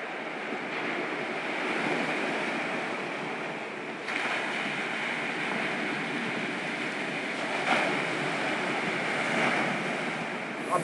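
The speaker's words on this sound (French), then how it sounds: "L'eau qui coule de la rivière, mais aussi les vagues de la mer qui se frappent contre les rochers." Steady roar of sea waves breaking against rocks near a river mouth, continuous and fairly loud with periodic surges and a constant wash of water, no voices.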